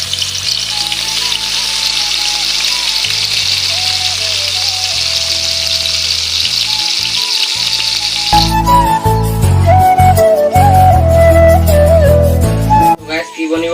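Meat sizzling steadily in hot oil in a pan, a loud continuous frying hiss that carries on throughout while music comes in over it partway through.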